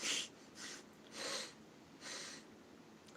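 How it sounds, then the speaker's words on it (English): A man sniffing his nose hard over and over, with four or so strong, airy snorts spaced about every half second to second, close and fairly quiet, with no talk. "He like sniffs his nose for like a minute or two at a time"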